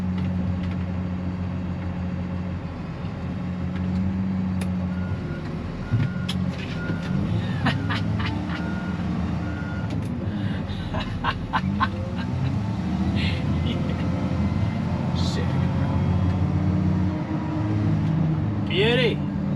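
A LiuGong wheel loader drones steadily with a low diesel hum as it runs and lifts its bucket. Reversing beeps sound now and then, along with hydraulic whines and clanks. Someone talks over the machine at intervals.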